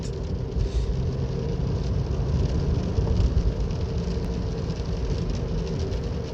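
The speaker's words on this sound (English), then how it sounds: "So it just has started to rain quite a bit now" Rain falls heavily outdoors beside a 2012 Toyota Corolla 1.8, a dense, continuous roaring wash of sound with no talking.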